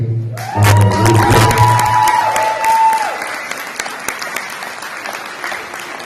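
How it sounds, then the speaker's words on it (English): An audience applauds the team at a charter school graduation, loud clapping with some cheering that bursts in early, then gradually thins and softens; a sustained tone and low hum linger beneath the first few seconds. "Just a quick round of applause to the team."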